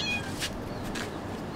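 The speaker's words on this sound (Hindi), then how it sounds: "बिल्ली आ गया और ये खाना के लिए चिल्ला रहा है" A cat meowing insistently for food on a Dubai terrace, a couple of drawn-out cries over steady outdoor background noise, near and clear.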